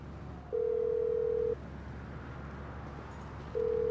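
Steady telephone dial tone in GTA 5 while calling emergency services, sounding in two flat, even bursts of about a second each, separated by a silent gap over low background hum.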